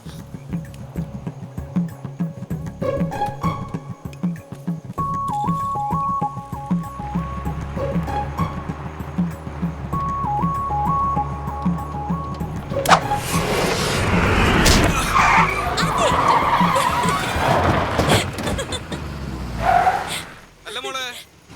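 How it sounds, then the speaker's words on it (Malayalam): A car drives up and approaches on a rural road. Its engine rumble rises and gets louder toward the end, under background music and some voices. "കാറ് വരുന്നു"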